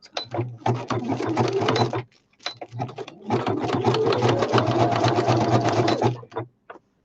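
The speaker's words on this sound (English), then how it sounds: "I'm going to just do a straight stitch, and I might have to cut these and sew these on separate" A sewing machine runs a straight stitch in two loud, close bursts of steady mechanical whirring and clatter, with a brief pause between them and a short stop near the end.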